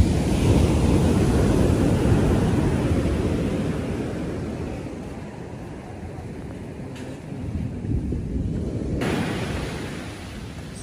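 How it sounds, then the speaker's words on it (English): Big ocean waves crash and roar continuously on White Beach in Puerto Galera, a loud, dense surf wash with wind buffeting the microphone, easing slightly midway before surging again. "These big waves."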